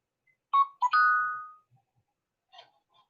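A phone ringtone plays indoors during a craft session: a short melodic electronic chime of a few bright tones, one long sustained note, then a softer echo of the tune, clear and alone with no talk.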